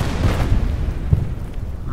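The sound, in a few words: gun firing at an AT gun in the video game Order of Battle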